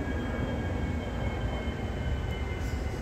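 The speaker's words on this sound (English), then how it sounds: "that plane sounds kind of weird." Steady broadband roar of an airplane flying overhead outdoors, a continuous loud wash of engine noise with no breaks and no talking.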